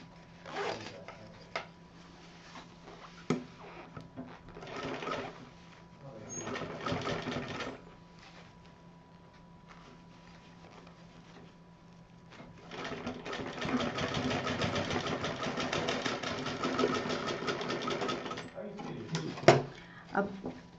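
A sewing machine stitches a small purse in bursts, with short runs early and a long steady run near the end, close by, with someone speaking between them.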